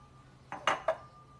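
Sun-dried tomatoes with their oil are tipped from a glass jar into a pan, heard as three quick close clinks and knocks of glass against metal in a quiet kitchen.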